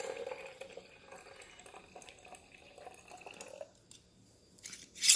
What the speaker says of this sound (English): Now add the rest of your water.